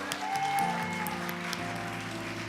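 A church congregation applauds during a Sunday worship service, a soft spread of clapping over sustained keyboard tones.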